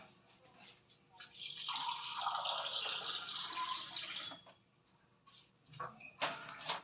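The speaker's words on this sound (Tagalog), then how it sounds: "maglalagay po tayo ng 2 basong tubig lang" Two glasses of water pour into a pan of pancit canton gisado, a bright splashing stream lasting about three seconds, followed by shorter splashes and clatter.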